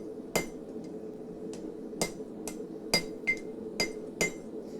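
A hammer strikes a metal bottle opener to flatten it, with about eight sharp, ringing blows spaced irregularly and heard up close over a steady background hum.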